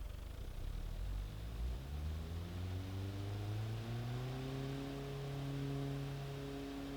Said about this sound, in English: So we'll start the engine. Oh, that doesn't sound good.